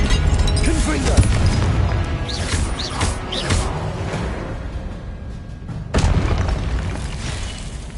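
Confringo spell explosions in Hogwarts Legacy, heavy booming blasts and crackling bursts in a continuous loud stretch of combat, with a fresh burst near the end.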